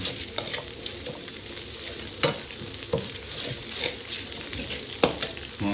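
Stir-frying with egg in a pan, a spatula scraping and stirring through a steady sizzle, with sharp clanks against the pan at intervals, close and fairly loud.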